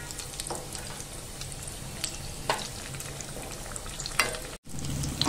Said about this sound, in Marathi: आता आपले लॉलीपॉप आहेत ना हे थोडे असे चमच्याने गोल गोल फिरवायचे आहेत, त्यामुळे आहे ना चारी बाजूने ना असे क्रिस्पी व्हायला पाहिजे।